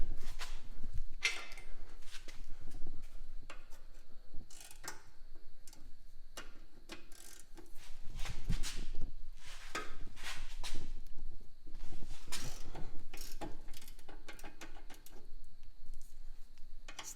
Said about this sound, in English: Let's put a gear wrench on it.